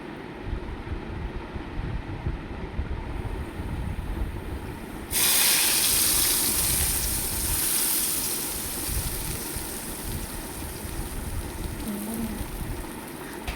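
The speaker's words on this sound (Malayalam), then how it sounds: "നെയ്ക്കകത്ത് അണ്ടിപ്പരിപ്പ് മുന്തിരിങ്ങായും കൂടെ മൂപ്പിച്ച് തട്ടാവേ" Cashews and raisins frying in hot ghee for a Christmas chicken kurma give a continuous sizzle, which grows louder and brighter partway through and then settles to a steady crackle.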